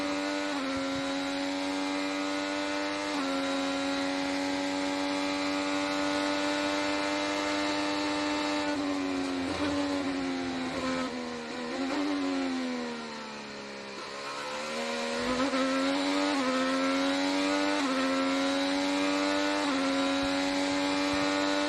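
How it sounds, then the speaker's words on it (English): A Freightliner-sponsored Chevy-powered IndyCar laps the Portland road course in practice, its high-pitched engine wailing steadily with rising gear-change sweeps, dipping briefly under braking around the middle before climbing back to a loud, continuous scream. "Just listen to the Freightliner Chevy go for a lap."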